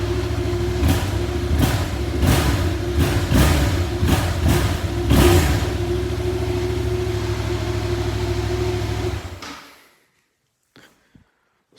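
Yamaha MT-07 698cc parallel-twin motorcycle in a garage, idling deep and throaty with several quick sharp blips of the throttle, then the engine cuts off into near silence.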